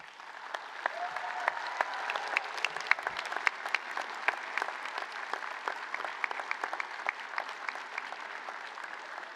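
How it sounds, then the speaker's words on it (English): Families and friends applaud at a Leeds Law School graduation ceremony, a steady, dense wash of many hands clapping that holds evenly for several seconds in a large hall. "Now please express your thanks and appreciation to families and friends with applause and cheers."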